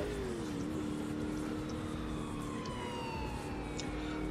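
Police car siren in the GTA IV video game, a continuous wailing siren sweeping up and down over steady engine and traffic noise, loud and unbroken throughout, with no talk.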